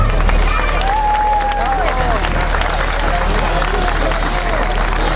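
Crowd applause at an outdoor human towers festival in València, steady clapping from many people with murmuring voices and a constant low hum underneath.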